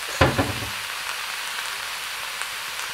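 Chicory sizzles in butter in a pan, with a brief louder burst of frying near the start settling into a steady, soft crackle that continues quietly on its own.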